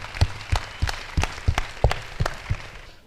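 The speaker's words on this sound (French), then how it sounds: "Let's clap for Jesus Christ." A church congregation claps together in a steady rhythm, roughly three claps per second, for about three seconds, sounding fairly close and with no one talking over it.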